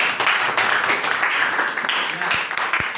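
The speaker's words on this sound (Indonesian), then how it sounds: "Oke, tepuk tangan." A classroom audience claps together, a dense, close patter of hands running steadily for a few seconds with a few sharper individual claps toward the end.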